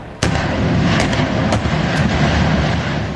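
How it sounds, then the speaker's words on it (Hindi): Indian Army artillery guns firing at a firing range: a loud sharp report opens, followed by several more booming shots spaced about half a second apart over a continuous rumbling roar. "भारतीय सेना की तोपें फायरिंग रेंज में आग बरसाती दिख रही हैं"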